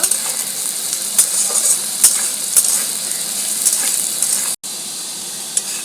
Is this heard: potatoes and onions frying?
yes